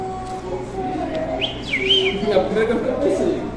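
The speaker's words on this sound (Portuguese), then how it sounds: "Passarinho." A small bird chirps and twitters in short, high, sliding notes over a low background hum, with faint voices nearby.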